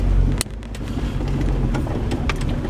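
A Jeep in four-high pulls away in first gear on an off-road trail at Windrock, its engine a steady low rumble close by with a few sharp knocks and clunks over the top.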